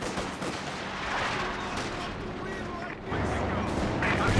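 Dense, sustained gunfire and explosions from a Company of Heroes 2 battle with a machine gun position under pressure, loud and continuous, with a heavier surge of rumbling fire in the last second.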